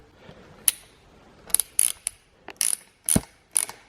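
An Allen cap head tool ratchets titanium bolts down on a Toyota Supra, giving several short bursts of close, crisp mechanical clicking separated by brief pauses.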